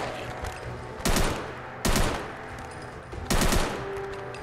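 AK-74M rifle fired at zombies in a video game: three loud, rapid automatic bursts spaced about a second apart, each a dense crackling rattle that ends abruptly, with quieter ambient noise between bursts.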